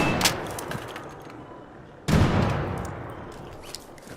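Gunfire in the video game Arc Raiders, aimed at a snitch: a burst of shots, then a sharp, loud blast at about two seconds that rings out and decays slowly, with no talk.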